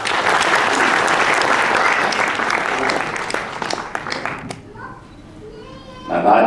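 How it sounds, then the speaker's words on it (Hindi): An audience claps loudly at an award ceremony, a dense burst of applause that tapers off after a few seconds, with children's voices and chatter in the hall as it fades. "उनके लिए एक बार जोरदार ताली"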